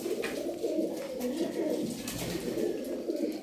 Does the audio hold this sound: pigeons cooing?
yes